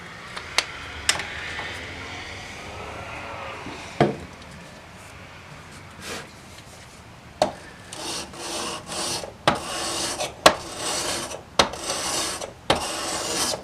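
A steel chisel bevel rubs back and forth on a sharpening stone in rasping strokes, with louder scraping passes and sharp knocks spaced through the later part.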